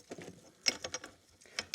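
Quiet metallic clicks and small scraping rattles come from the screws being removed during an M95 rifle takedown, with several irregular taps and ratchety ticks heard up close.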